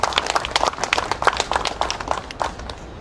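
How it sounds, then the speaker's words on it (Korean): Scattered, uneven hand clapping from an audience at the founding ceremony of a Korean patriotic commemoration society, given for a retired colonel. The claps are moderately loud and sharp, with irregular rhythm, and thin out toward the end. "다시 한번 큰 박수 부탁드립니다"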